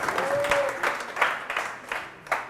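Applause rises from a conference audience at a Blackmagic Design expo session in Kenya, moderately loud with distinct clap surges, and a brief whistle near the start.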